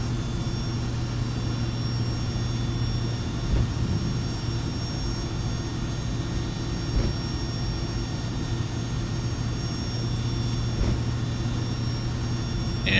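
Idling jet engines of a Boeing 757-200 in the X-Plane 11 flight simulator, a steady low drone with a constant hum that holds evenly throughout at moderate level.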